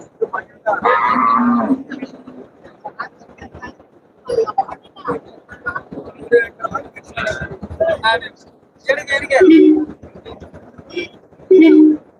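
Bulls moo loudly and close several times at Melapalayam cattle market, long low bellows alternating with someone speaking.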